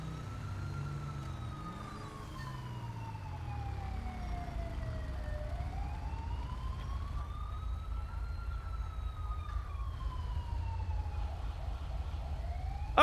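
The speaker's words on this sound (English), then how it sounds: "And there comes the ambulance." A wailing ambulance siren in the video game LSPDFR (GTA V police mod) rises and falls in long sweeps, steady and fairly loud over a low engine-like rumble, with no voices.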